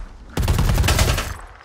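A sudden burst of rapid automatic gunfire in the video game Predator: Hunting Grounds erupts and rattles on loudly for over a second, dense and close, with no talking.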